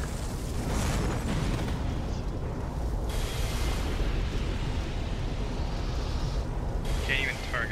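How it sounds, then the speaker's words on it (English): A fire orb spell is cast in Dark Souls II Scholar of the First Sin during a fight with spiders, giving a loud, dense rumbling burst that carries on steadily under game noise. "Take a fire orb."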